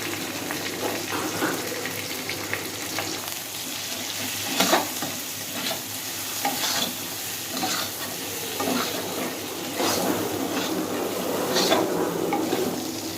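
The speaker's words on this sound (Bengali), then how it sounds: "এরপর টমেটো দিয়ে দিলাম।" Tomatoes fry and are stirred in a pan for fish curry: a soft continuous sizzle with intermittent scraping and clinking of a spoon against the pan, fairly quiet and close.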